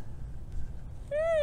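A voice imitates a cat for a farmyard puppet show, giving a single short, rising meow near the end after a second of low, quiet room hum.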